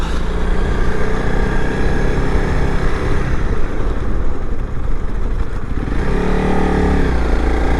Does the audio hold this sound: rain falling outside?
no